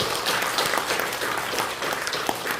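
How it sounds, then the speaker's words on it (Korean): An indoor audience at a founding general meeting of an inter-Korean exchange association at the Seoul press center applauds, giving a sustained, fairly loud patter of many hands clapping with no speech over it. "우리 한번 박수 한번 크게 쳐주세요."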